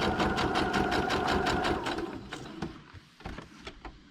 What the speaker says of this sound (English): I'm going to go back to a regular straight stitch.